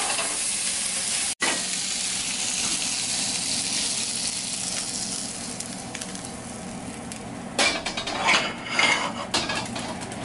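Strips of pork loin frying in a pan, a steady loud sizzle with scraping and stirring clatter toward the end.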